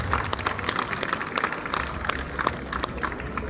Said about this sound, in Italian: Vi chiedo un applauso per gli amici moderati.